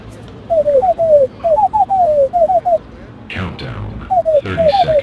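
Pigeon cooing from the VR video game I Am Bird, in rhythmic bursts of short warbling coos. A brief gap holds a louder swooshing sound before the cooing resumes.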